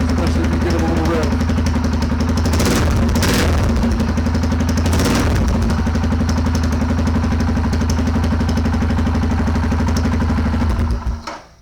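A Royal Enfield Himalayan's single-cylinder engine, running without a muffler, blasts loud and close with a throbbing idle and a couple of sharp revs before it cuts off, while someone talks over it.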